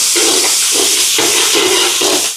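Onions sauté in a large pan for a charity meal cooking, a loud, dense steady hiss with faint recurring scraping pulses underneath, ending abruptly.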